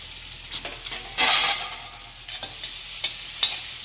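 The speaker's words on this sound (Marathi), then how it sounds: "आणि आता हे कांदा घालून घ्यायचा याच्यामध्ये" Onion with green chilli hits hot oil for poha and is stirred in a pan, giving a sudden loud burst of sizzling followed by lighter scraping and tapping strokes, close up with no speech.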